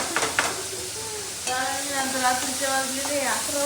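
Maggi noodles with onion and chilli powder stir-fried in a hot pan, steady loud sizzling with spatula scrapes, while voices talk over it.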